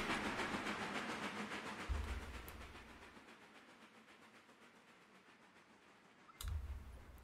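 A train brakes in the video game Railroader, a steam-era locomotive setting: a loud hissing release of air fades away over a few seconds, then a second sharp hiss burst returns near the end.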